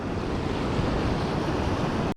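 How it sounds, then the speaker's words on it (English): Ocean waves break on a beach as the tide goes out, the surf a steady broadband roar with wind buffeting the microphone, continuous and loud for about two seconds before cutting off abruptly. "with the tide going out, the breakers have actually moved further out"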